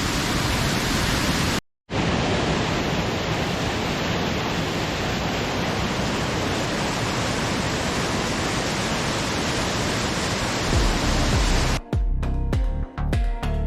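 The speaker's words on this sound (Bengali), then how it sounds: "আমার পেছনে হচ্ছে খান্ডা ওয়াটারফল।" Khanda waterfall in North Sikkim rushing loudly and steadily, a dense broadband roar filling the scene beside a partly frozen neighbouring fall, broken by a short dropout and ending with a few knocks and handling bumps.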